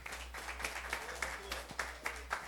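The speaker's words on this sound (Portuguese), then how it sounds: "A salva de palmas aí pro Dr." A small audience gives a brief round of applause for a speaker at a talk on lawyers' mental health, fairly faint with scattered claps under a low background hum.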